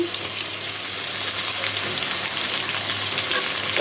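Prawns fry in hot oil with a dense, crackling sizzle that holds steady throughout, close up and fairly loud, no voices.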